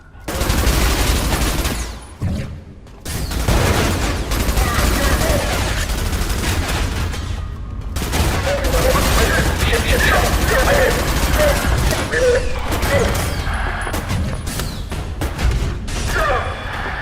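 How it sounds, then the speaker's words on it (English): Rapid SMG fire in the video game ADACA, dense continuous bursts of shots with mechanical clatter filling most of the stretch, broken by brief pauses, loud and close. "Try out this SMG as well"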